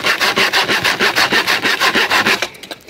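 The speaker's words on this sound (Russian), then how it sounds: "Пилит рукопашную." A handsaw cuts through wood in a steady rhythm of about a dozen quick back-and-forth rasping strokes, close and loud, then stops and leaves a few faint knocks.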